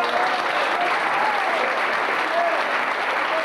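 A jazz concert audience in Rheinfelden bursts into sustained applause for the drummer, dense clapping that holds steady and loud with faint whistles over the top.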